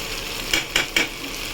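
A steady, close sizzle of frying rises as mustard oil is drizzled over a pan of hilsa fish head cooked with taro stolons, with three short scraping stirs breaking through the hiss.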